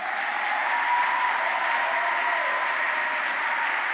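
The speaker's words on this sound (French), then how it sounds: "est-ce qu'on peut acclamer Jésus?" A church congregation applauding and cheering for Jesus during a sermon: dense, steady applause mixed with crowd voices, sustained evenly and fairly loud throughout, with no pauses.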